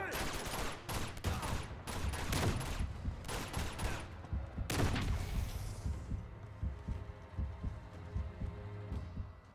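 Rapid bursts of automatic gunfire from the Uncharted 2: Among Thieves video game, dense and rattling for about five seconds, then fading into a low hum and faint echoes.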